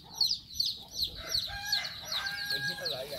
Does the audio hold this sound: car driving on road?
no